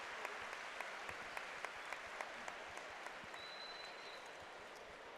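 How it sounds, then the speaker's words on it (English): Faint, distant applause from a quiet crowd at a priests versus seminarians basketball game as an injured player is helped off the floor, with scattered sharp claps standing out over the soft background. "A round of applause for Father Preston."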